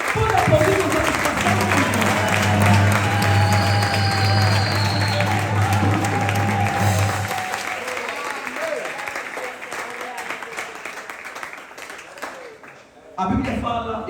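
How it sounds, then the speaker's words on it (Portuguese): A church congregation claps at length in a dense, loud wave of applause, with a voice talking over it for much of the time; the clapping slowly thins and fades before a brief quiet near the end. "Pode aplaudir o nosso Deus."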